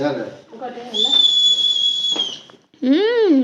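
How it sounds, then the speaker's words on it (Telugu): A high, sustained whistle held for over a second, preceded by brief talk and followed by a wavering vocal sound. "విజిల్ వేస్తాను, ఇంకోసారి"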